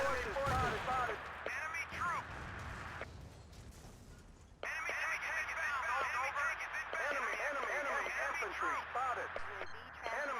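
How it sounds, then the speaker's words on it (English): An overzealous artillery strike pounds down in a Battlefield 2 conquest match, with loud repeated blasts and crashing impacts, a burst of heavy fire early, then a sustained roar of explosions and gunfire over radio-like chatter. "Artillery coming down, very much unnecessary"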